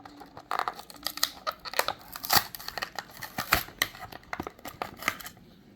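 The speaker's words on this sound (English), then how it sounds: "So let's unbox and see how it looks." A Maisto Ferrari LaFerrari die-cast model is unboxed, with close, quiet crinkling, tearing and snipping of packaging in irregular bursts and no talk.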